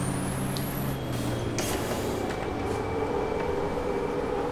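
Racing truck in the Formula Truck sim, a loud continuous engine drone with a steady low rumble and a brief whistling hiss, constant throughout without talk.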